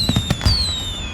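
Fireworks bursting in a radio advertisement for backyard fireworks sold for a Labor Day weekend celebration, several sharp booming pops in quick succession followed by a descending whistling tone that fades out.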